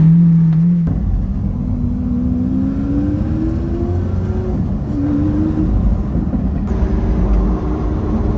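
Lamborghini on a test drive after a transmission repair, its engine droning loudly from the cabin with gliding pitch sweeps as it accelerates and shifts, a brief pause early on, with no talk.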